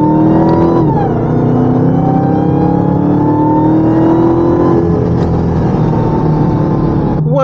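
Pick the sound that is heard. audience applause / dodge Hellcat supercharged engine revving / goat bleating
dodge Hellcat supercharged engine revving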